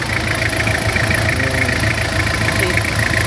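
A 2001 Toyota Kijang Krista diesel engine idling, a steady close rumble with a fine rhythmic diesel clatter, continuous and even throughout.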